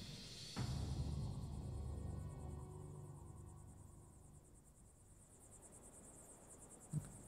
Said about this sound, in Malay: Terdengar bunyi cengkerik kat situ kan.